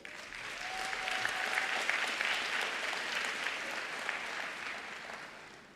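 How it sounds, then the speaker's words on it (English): Sustained applause from a large audience at a university graduation ceremony, a dense steady wash of clapping that holds for several seconds before easing slightly at the end. "let's give them a round of applause, please"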